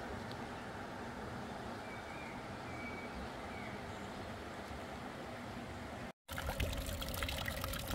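A river in an Austrian valley near the Krimmler waterfalls flows steadily, giving a soft, continuous rushing wash that cuts out briefly and then returns a little brighter.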